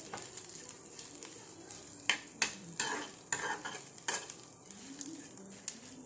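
Shrimp fry in a pan with a soft, steady sizzle and repeated stirring scrapes from a utensil. The sounds are close but fairly quiet, and no one speaks.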